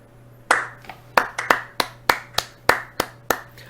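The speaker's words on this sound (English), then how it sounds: "A quick round of applause for Sari Kaufman." Quick round of applause on a podcast: about ten sharp, close hand claps in a steady, slightly uneven rhythm, sparse enough to sound like one or two people, over a faint low hum.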